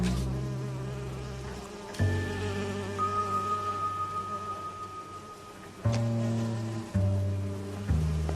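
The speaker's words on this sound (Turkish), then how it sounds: "Bu sinek sesleri ne lan böyle?" Flies buzzing inside a room in the video game L.A. Noire, a faint droning hum heard alongside sustained game tones that start and stop abruptly.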